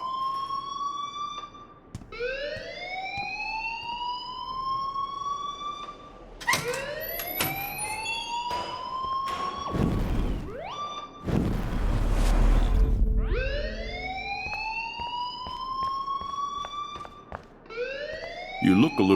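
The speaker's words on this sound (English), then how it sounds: "please turn off that alarm since that's your job" A fire alarm in the Life is Strange video game wails in repeated rising siren sweeps, loud and close, with a burst of noisy clatter in the middle and speech mixed in.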